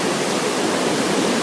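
A rapid, full stream at a hiking water crossing roars loudly and steadily, a dense close rush of water with nothing else standing out.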